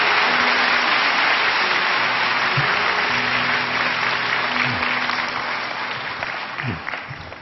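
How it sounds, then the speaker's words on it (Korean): Sustained congregational applause during a late-night Holy Week church service, dense and loud at first and easing off toward the end, with faint voices and some tonal sounds underneath. "오늘은 큰 격려의 박수 우리 해주시면서 함께 말씀을 듣게 되기를 원합니다."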